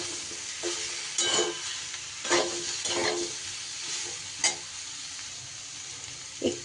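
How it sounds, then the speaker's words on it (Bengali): Vegetables seasoned with turmeric and chilli powder fry in a pan, a steady sizzle broken by repeated scraping stirs of the spoon, close and fairly loud with no voices. "সবজি আমার কিছু সময় নাড়াচাড়া করা হয়ে গেছে"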